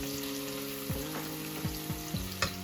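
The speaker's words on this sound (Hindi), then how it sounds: "बस हल्के से हमने इसको सॉटे करना है" Cubed onion sautéing lightly in oil for a mincemeat spaghetti, a steady close sizzle with several soft stirring scrapes spaced through it and a brief louder clatter near the end.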